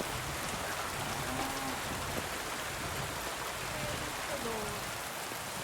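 Heavy rain pours down in the medieval video game Kingdom Come Deliverance 2, a constant dense hiss of drops on surfaces with faint tonal game sounds drifting underneath.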